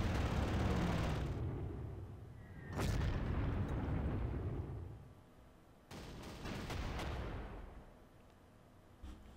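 Artillery bombardment explosions in the wartime strategy game Panzer Corps: a loud rumbling blast at the start, a second sharp boom near three seconds, then another burst around six seconds, each decaying into a low rolling rumble.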